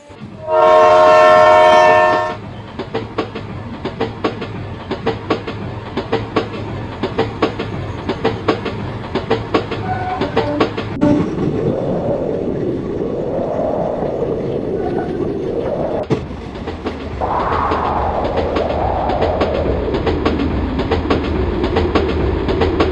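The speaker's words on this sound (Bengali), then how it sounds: "আর ট্রেন সেই সঙ্গে ছেড়েও দিল" A night express train departs Mankar station. A loud, steady horn blast opens, then a continuous rumble of wheels on rails follows with rhythmic clicking as the train gathers pace, nearby and without voices.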